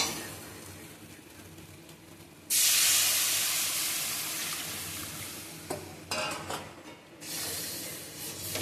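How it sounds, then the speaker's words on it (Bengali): Water is poured into hot oil in a pan while cooking an eggplant dish, setting off a sudden loud hiss and steam burst that slowly fades, followed by a few shorter sizzling surges as stirring continues. "এই যে এবার তেলটা ছেড়ে দিয়েছে, এবারে আমি জল দিয়ে দেবো।"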